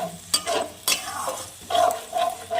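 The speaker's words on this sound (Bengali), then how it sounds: "এবার আমি ভালো করে মশলাটাকে কষিয়ে নিব।" Spice masala with whisked sour yogurt fries and is stirred in a pan, giving repeated scraping stirs over a steady close sizzle, with no talking.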